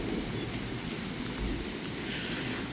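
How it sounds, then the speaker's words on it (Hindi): Heavy rain pours at night during a thunderstorm with lightning, a dense, unbroken hiss with a low rumbling underneath, steady and close for the whole stretch. "तो शदीद बारिश हो रही है, और बहुत ज़्यादा बादल भी चमक रहे हैं।"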